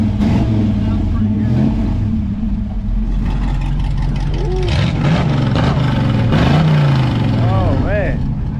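Performance car exhaust revving with the dump valve closed, heard up close: repeated rising and falling revs over a steady idle rumble, with people talking over it.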